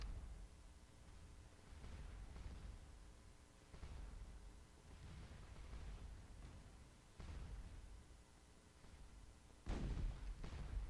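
Repeated artillery fire from a Napoleonic-era battle in the strategy game Scourge of War: Waterloo, with distant low booms arriving every couple of seconds over a constant rumbling battlefield bed, the loudest blast near the end.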